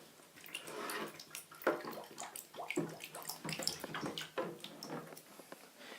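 Water poured into a floating plastic jug, a steady splashing and gurgling pour with irregular splashy bursts that stays close and fairly loud throughout.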